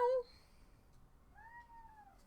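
A cat lets out a short, loud meow, followed by a softer, drawn-out meow a moment later, close by in a quiet room.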